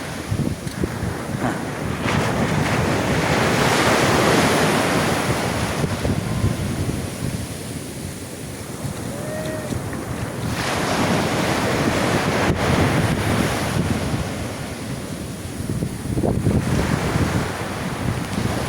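Sea waves surging and washing up on Paratong Beach in Bangar, La Union, a continuous loud roar of surf rising and falling in long swells, with heavy wind buffeting the microphone and no voices.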